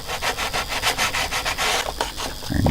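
Sandpaper rubs back and forth on the nose of a model SBD Dauntless aircraft fuselage, giving close, loud, rhythmic rasping strokes.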